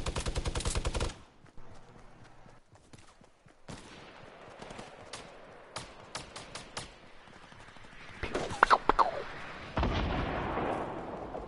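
Gunfire in Fortnite rattles in rapid bursts at the start, then scattered single shots and pops follow at moderate distance, building into heavier volleys and blasts toward the end.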